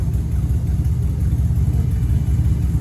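A restored 1957 Ford F250 truck engine runs steadily nearby, a loud, rough low rumble with a fast, even firing pulse and no voices over it.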